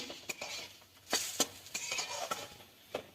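Grated cauliflower is stirred in a pan with a metal spatula: scattered scraping strokes and light clinks against the pan, a few sharper knocks among softer rustles, close and without talk.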